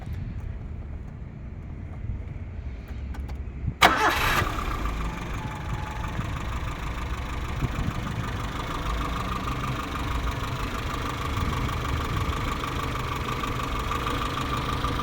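A 1983 Triumph Acclaim HL engine turns over with a quick crank and catches, then settles into a steady, even idle that hums on close by with no one talking.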